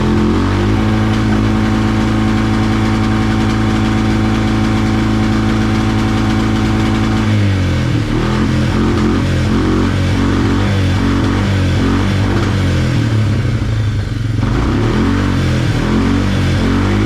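A quad bike engine warming up, running steadily and loud at close range, a constant idle drone that shifts to a rougher, more uneven running note partway through, with no talking.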